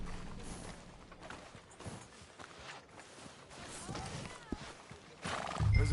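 Horse sounds in the Red Dead video game: a faint whinny and scattered clip-clop of hooves amid ambient street noise, ending with a louder low rumble.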